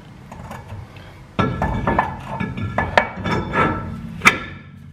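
A brake rotor going onto the rear hub of a Ram truck during a brake job: a run of sharp metallic knocks and clinks, close and uneven, with a couple of louder hits near the end.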